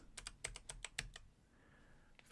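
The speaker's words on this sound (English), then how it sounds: "and then we type fabric" Quick bursts of keystrokes on a computer keyboard, about eight crisp taps in an uneven run, then a pause and one more tap, close and clear with no speech.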